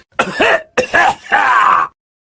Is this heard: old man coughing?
yes